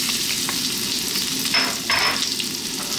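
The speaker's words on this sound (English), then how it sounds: "as that's heating up, we're going to drop in our ginger" Ginger frying in hot sunflower oil in a wok over high heat, a steady loud sizzle with a few surges of stirring and spattering, close and continuous, with no voices.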